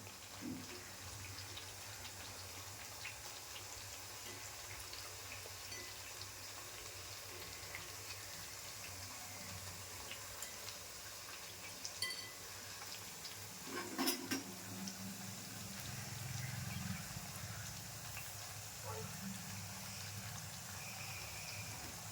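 Butter chakli made without maida deep-fries in oil over a medium flame, giving a faint, steady bubbling sizzle with a few brief clinks and no talking.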